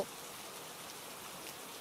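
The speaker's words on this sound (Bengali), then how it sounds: "পরদিন সকাল হতেই অনেক জোরে বৃষ্টি নামলো" Heavy rain pours down steadily as a continuous, even hiss with no breaks, heard alone and without any voices.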